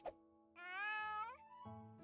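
A cat meows in the Little Witch in the Wood video game, a single drawn-out, rising call heard close and clear after a short click, with a steady low game tone underneath.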